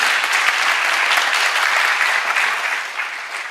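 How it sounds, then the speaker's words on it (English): Audience applause at a green entrepreneurship pitch event, dense steady clapping from a large crowd for a few seconds, tapering slightly at the end. "give him another big applause"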